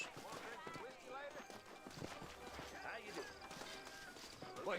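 Horse hooves clip-clop in the Red Dead video game at a walking pace, set against game music and ambient sound, with a voice talking over them.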